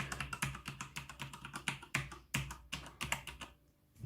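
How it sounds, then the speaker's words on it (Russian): Keys clatter on a quiet mechanical keyboard in rapid, uneven bursts of crisp clicks, close and clear, easing into a brief pause near the end. "Для механической клавиатуры"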